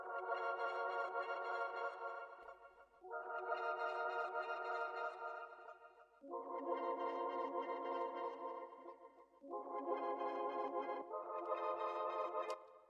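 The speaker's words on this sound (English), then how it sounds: "I've put these chords over 2 octaves just to thicken them up" Sustained synth chords stacked over two octaves to thicken them form a loop, with five long, even chord blocks changing every two to three seconds and a smooth, steady level throughout.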